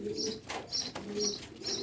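Pigeons coo in soft repeated throaty calls, about four evenly spaced phrases, close and clear with no talking.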